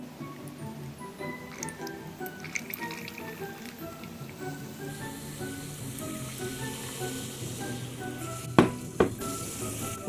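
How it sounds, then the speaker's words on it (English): A Grossery Gang Flush 'n' Fizz toilet toy fizzes in liquid, a steady soft sizzling crackle heard up close for the whole stretch, with a few sharp knocks near the end. "Still fizzing away."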